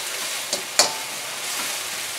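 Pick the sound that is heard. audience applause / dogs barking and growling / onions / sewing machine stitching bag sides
onions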